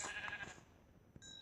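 Sheep in the video game Minecraft bleat in a few short, clear calls, close and isolated against a quiet background.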